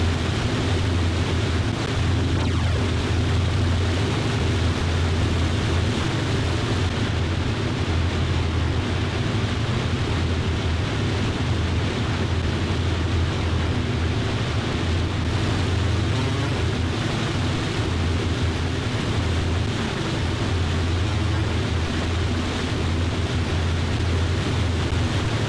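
Engines of a vintage Boeing 247D airliner in flight in Microsoft Flight Simulator, a steady, loud, unbroken drone with a heavy low rumble and broad rushing hiss that runs unchanged throughout, with no talking.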